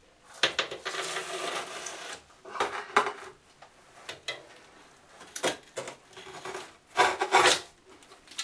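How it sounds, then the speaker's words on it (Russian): A thin layer of tile adhesive spread and rubbed with a trowel onto porcelain stoneware tile for a window reveal, irregular close scraping and rasping strokes with short pauses between them. "я наношу тоненький слой плиточного клея и растираю."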